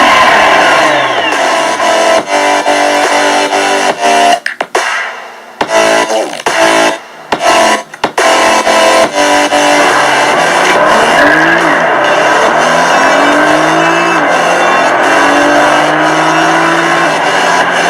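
2015 Nissan GT-R driving and accelerating, engine pitch climbing in repeated sweeps through gear changes, loud and close, with brief dropouts and no talk.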